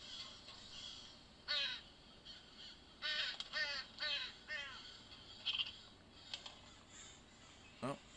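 Crows caw inside a VR horror game, harsh rasping calls in short bursts and pairs, mostly spaced a second or so apart against a quiet ambient background, fairly faint with no talking.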